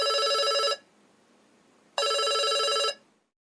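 A telephone rings in two long electronic bursts separated by a short silence, loud and close, before it is answered in a Korean-language travel conversation exercise.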